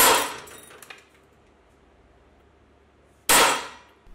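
Steel steerer tube breaking loose from a bicycle fork crown in a press, giving two sharp, loud metallic clangs, one at the start and one near the end, separated by quiet.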